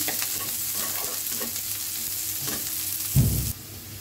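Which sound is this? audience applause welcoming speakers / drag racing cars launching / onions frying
onions frying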